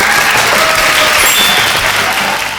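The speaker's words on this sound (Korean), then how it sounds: "수고한 우리 모두를 향해 박수!" Children at a church summer Bible school clap loudly together, a thick, continuous wash of applause that holds strong and then eases slightly toward the end, with no speech over it.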